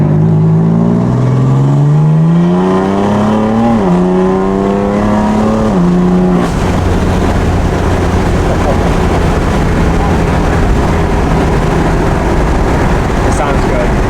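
BMW F82 M4 with a new exhaust pulling away, loud rising engine note through a few gear changes, then a steady roaring drone as it drives on, with voices talking over it.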